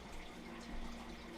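A water pump runs in the survival game Icarus, a faint steady watery rush with a low mechanical hum underneath, continuous and unbroken.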